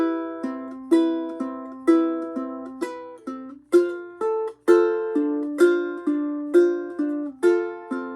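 A ukulele plays a steady fingerpicked pattern, the thumb alternating between the fourth and third strings while the fingers pick the first and second, each plucked note ringing clearly, close and alone.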